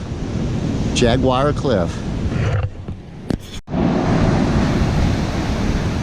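Ocean surf breaks on a steep sandy beach at Mori's Point in a continuous broad wash mixed with wind buffeting, a loud steady roar, with someone talking briefly near the start.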